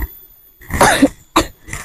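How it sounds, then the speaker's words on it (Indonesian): A person coughs nearby: a harsh cough burst followed by two shorter coughs, loud and close, with quiet between them. "Batuk juga tidak berhenti."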